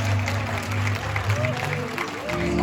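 A church congregation clapping hands in praise during a worship service, a steady wash of many hands under a loud sustained musical tone and a voice speaking over it.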